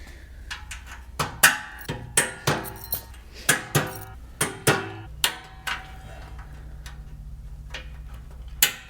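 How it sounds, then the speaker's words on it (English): A mallet taps wire clips onto a MicroSport off-road trailer frame, a run of about a dozen sharp, close metallic knocks in an uneven rhythm, then a quiet steady hum. "Just tap those right on with the mallet."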